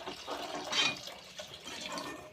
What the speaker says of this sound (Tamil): நான் வந்து கொஞ்சமாக தண்ணி ஆட் பண்ணிக்கலாம்.